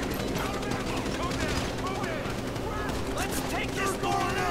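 Continuous gunfire in the video game GTA 5 during an LSPDFR police mod patrol, dense overlapping bursts like machine-gun fire and distant shots under steady game noise, with a voice talking over it.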